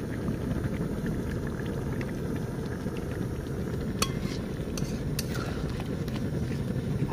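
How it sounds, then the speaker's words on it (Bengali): Poppy seed and cashew paste sizzles steadily as it is sautéed in a pan outdoors beside a jungle canal, a continuous low frying hiss with a few faint metallic clinks of a utensil. "তো এইটা দিয়ে দেওয়ার পরে খানিকক্ষণ আমরা এটা কষে নেবো সুন্দর করে।"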